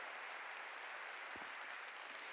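A church congregation claps in praise to God during a sermon, a continuous, even patter of many hands with no talking over it.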